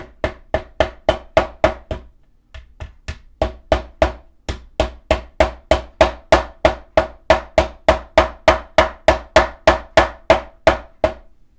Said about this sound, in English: grab your hammer